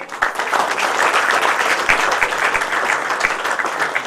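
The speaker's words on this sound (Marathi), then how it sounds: "एकदा जोरदार टाळी" A hall audience at an award ceremony applauds, a dense, even wash of many hands clapping at once, sustained and fairly loud throughout.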